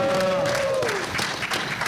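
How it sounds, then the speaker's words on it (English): Audience applause at a cult-cinema celebrity panel at Comic Con LA, greeting Costa Dillon, creator of Attack of the Killer Tomatoes; a brief, steady crowd clatter with a host's drawn-out voice over its start. "Big round of applause for"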